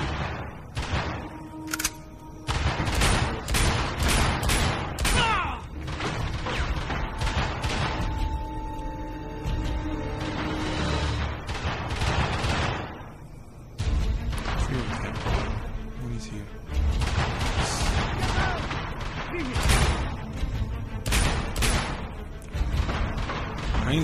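Rapid gunfire from a small gun in a PlayStation Vita action game crackles in dense bursts with heavy impacts and crashes, pausing briefly a few times before resuming, with a voice occasionally heard amid the shooting.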